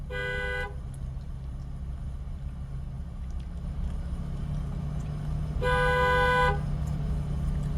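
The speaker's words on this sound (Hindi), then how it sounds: "लॉन्ग हॉर्न पुश करो" Two long, loud car horn blasts, one at the start and another a few seconds later, over a steady engine rumble.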